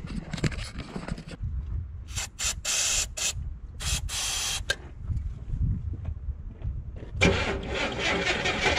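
Starting fluid hisses out of a spray can in several short bursts while the engine of a cheap Cutlass Supreme is cranked in low rumbling spells, with a longer final spray at the end, all close up.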